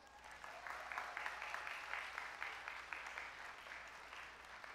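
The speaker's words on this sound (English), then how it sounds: "can we please give your parents a round of applause?" Crowd applause for parents at a high school graduation ceremony, steady clapping that sounds distant and faint, as if from a large gathering heard from far off, continuing evenly without voices.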